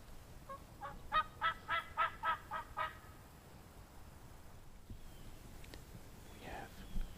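Wild turkeys call in the woods, giving a run of about eight quick, evenly spaced yelps. The calls are faint and distant against quiet outdoor background noise.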